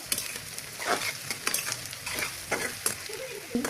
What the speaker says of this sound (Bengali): ভালো করে নেড়ে নেব